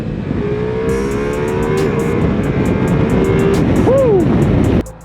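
A 2023 Ducati Multistrada V4 Pikes Peak motorcycle accelerates hard in third gear, its engine note climbing steadily and loud with wind rush before cutting off abruptly near the end.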